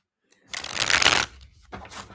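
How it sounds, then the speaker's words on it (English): Playing cards are riffled in a quick, crisp shuffle during a tarot reading, followed by a second shorter burst of shuffling, close and clear. "nice shuffle"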